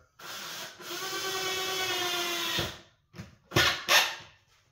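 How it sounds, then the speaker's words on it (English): A power drill drives a screw into a melamine cabinet, giving one loud, close whirring run of about two and a half seconds, then a few short, sharp bursts as the screw seats. "But I do like putting this extra screw in here."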